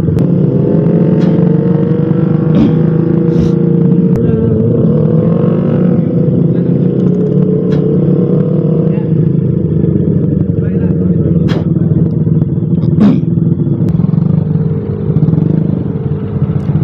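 A Kawasaki ZX25R motorcycle engine drones steadily at close range throughout, a loud continuous riding note with wind rush, while voices talk over it.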